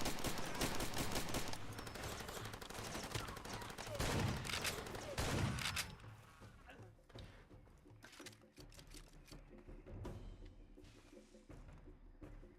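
Rapid sustained gunfire in a Far Cry video game, a dense loud volley for the first six seconds, then sparser quieter shots and a low rumble.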